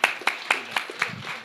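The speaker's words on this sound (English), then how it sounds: "Round of applause for the panel, please." Audience at a tech leadership panel claps briefly, a sparse, rhythmic patter of a few hands rather than full applause.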